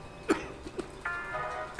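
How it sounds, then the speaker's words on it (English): A single sharp cough rings out in an elevator, followed by a couple of smaller throat sounds and then a faint sustained tone, all fairly close and without talk. "You cough in my face?"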